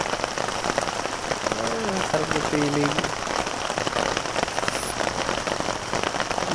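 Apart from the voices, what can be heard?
rain hitting a tarp at a campsite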